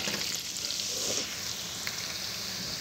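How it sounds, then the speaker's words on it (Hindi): Potatoes, onion, ginger and garlic frying in a pan for dhaba-style butter aloo palak give a soft, steady sizzle that stays close and fairly quiet throughout, with no talking. "अब इसमें हम आलू डाल देंगे, आलू को फ्राई करेंगे।"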